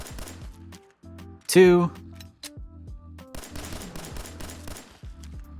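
A 9mm pistol fires in Fallout 4 with a modded sidearm, a burst of sharp shots around the middle and quicker rapid shots later, heard over game music, with a voice speaking briefly.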